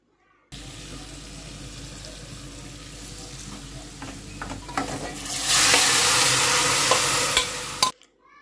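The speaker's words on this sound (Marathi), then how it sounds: "ते कुकरमध्ये शिजलेलं जे मटण आहे ते मी आता त्याच्यामध्ये टाकून घेते" Pressure-cooked mutton goes into a hot Malvani-style tempering, first with scraping and stirring in the pot, then a loud, sharp sizzle that swells and holds before stopping abruptly.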